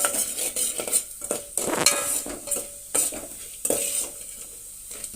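Peanuts and roasted gram dal frying in a pan for a spicy poha mixture, stirred briskly so a metal spoon clatters and scrapes repeatedly over a soft sizzle, close and fairly loud with no voices.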